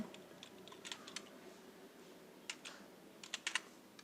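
Computer keyboard typing in a quiet room: scattered light key clicks in short bursts, including a few sharper presses like hitting enter, fairly close and soft.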